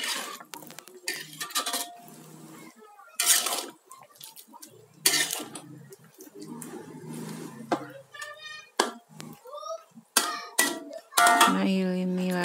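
Coconut milk being stirred into vegetables in a pot for an Indonesian sayur santan, with repeated spoon scrapes and metal clinks against the pot in irregular bursts, close and moderately loud, under a woman's intermittent speech.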